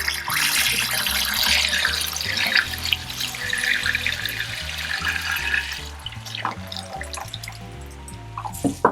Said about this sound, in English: I'm adding some water to my pot to rinse it out.